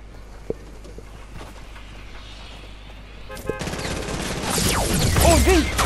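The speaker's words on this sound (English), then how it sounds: "he kept on shooting Dion" Rapid gunfire in a video game's getaway mode, sharp shots and bursts building into loud, dense firing with whistling effects near the end, over quieter earlier pops.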